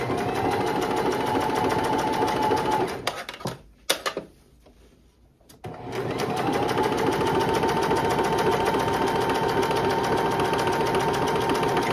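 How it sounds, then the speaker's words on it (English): A sewing machine stitching a quarter-inch seam on thrifted clothing fabric, a steady close whirring hum that stops briefly for a second or two, then resumes at the same even speed. "I'm going to sew down about a quarter inch."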